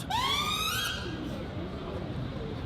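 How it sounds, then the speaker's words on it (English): An ambulance siren wails in rising sweeps, fairly faint and distant, fading as it passes beneath a low background hum. "We got an ambulance coming."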